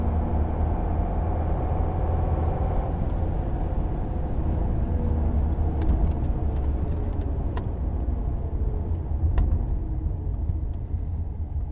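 A 2009 Mercedes E320 Bluetec diesel with a boost problem holds a steady, loud, low rumbling high idle throughout, with a few faint clicks over the drone.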